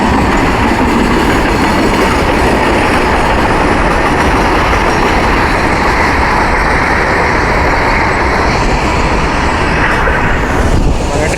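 A passenger train on an Indian rail route toward Raipur rolls along the rails with a loud, steady rumble and a continuous clatter of wheels, no voices, sustained throughout.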